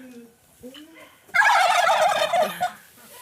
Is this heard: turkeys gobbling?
yes